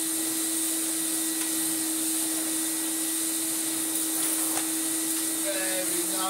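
A restored Miele S424i vacuum cleaner runs on a rug on its lowest setting, a steady airflow whoosh with a constant motor whine close by, and a voice comes in briefly near the end.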